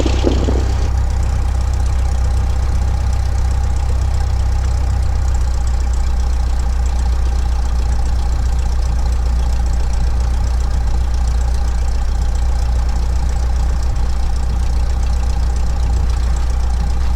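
A Cessna 172 light aircraft piston engine idles steadily while the plane taxis, a constant low drone heard close and loud throughout, with a brief louder burst at the very start.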